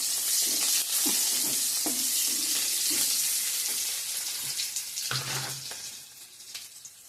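Bay leaf, onion, chilli and five-spice tempering sizzling loudly in hot oil, a dense continuous hiss with occasional stirring knocks, the frying gradually easing toward the end.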